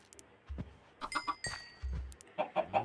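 Chickens in Minecraft, including a baby chick, give several short clucking bursts, near and moderately loud, with quiet gaps between them.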